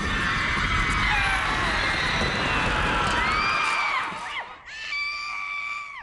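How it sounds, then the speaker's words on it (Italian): A woman screams in pleasure, loud and sustained, in a Zalando TV commercial, trailing off into higher, wavering shrieks near the end with no speech over them. "Zalando, urla di piacere."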